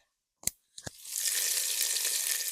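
A couple of sharp clunks, then a loud, steady hiss of chicken thighs searing in a hot pan that keeps going without pause.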